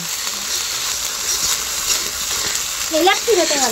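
Masala with onion and garlic stirred and frying in a pan, a steady close sizzle throughout with scraping stirs, and a voice briefly talking near the end.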